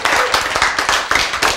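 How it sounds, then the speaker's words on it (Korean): A church congregation claps together during a sermon, a loud, close burst of many hands striking in quick, fairly regular rhythm without pause across the short stretch. "박수를 치시기 바랍니다."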